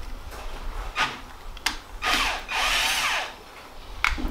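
A power drill drills out a stripped thread for a Helicoil insert on a Nissan 240SX valve cover. It runs in several short, close bursts over faint background noise, with one longer whirring run in the middle.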